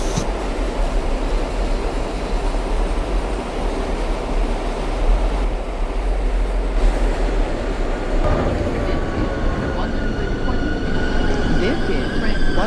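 A simulated NYC Subway R142A 4 express train bound for Brooklyn runs with a steady loud rumble and hum, rising squeals and tones near the end, while radio voices talk over it.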